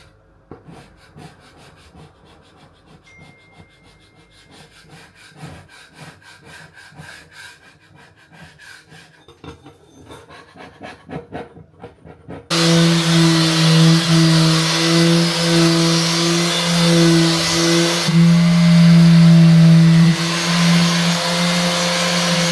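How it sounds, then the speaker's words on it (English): Kitchen counters being stripped by hand without a belt sander: steady, loud abrasive rubbing that starts partway through after quieter scraping and handling, then grinds on continuously to the end. "I just thought now would be a good time to strip the counters"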